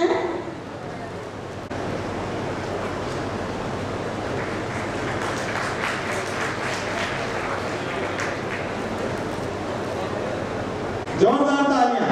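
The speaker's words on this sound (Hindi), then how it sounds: "जोरदार तालियां।" Audience applause at a district convention and award ceremony in Sawai Madhopur, a steady wash of clapping from a large crowd sustained for about ten seconds, followed by a voice speaking briefly at the end.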